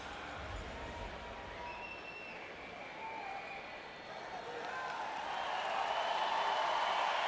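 Crowd at the Rio 2016 Paralympic swimming venue cheering for a home-nation swimmer: a broad, distant roar that grows steadily louder toward the end, with a faint announcer's voice over it.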